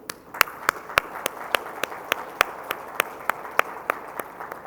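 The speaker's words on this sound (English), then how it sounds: "by a big round of applause, please" Sparse, separate claps ring out at a national HR conference after a vote of thanks, sharp and evenly spaced in a thin, fairly quiet round rather than a full ovation.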